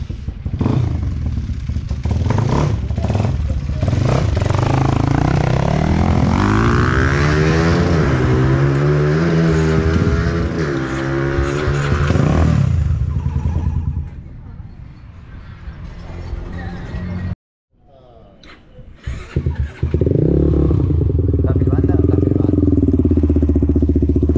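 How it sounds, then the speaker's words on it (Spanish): A built-up Twister motorcycle engine, number 293, runs at a track during break-in, revving up in rising pitch, dropping away to near silence, then roaring back loud and close. "Tenemos el Twister de Fran 293 armado por Carpi."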